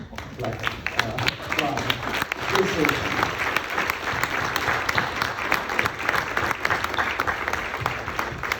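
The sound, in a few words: congregation standing and applauding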